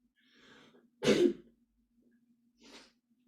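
A single sharp, loud sneeze-like burst from one person indoors, preceded by a faint breathy sound and followed by a softer short exhalation, with no talk over it.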